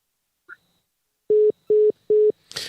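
Telephone tones during a troubled call on a live sports talk show: three steady, evenly spaced beeps like a busy signal, clear and alone, preceded by a faint click and ending in a brief burst of noise.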